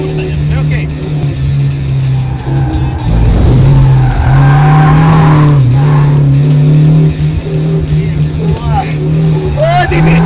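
A car drifts in a driving competition, its engine droning loud and close beneath a long, wavering tire squeal that rises and falls with throttle, while people talk over the noise.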